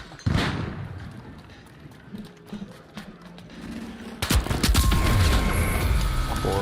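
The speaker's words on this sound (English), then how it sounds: "Tossing a flashbang." A flashbang grenade goes off in the video game The Finals: a quieter stretch of clicks and scattered pops, then a sudden loud burst that leaves a dense, ringing roar sustained to the end.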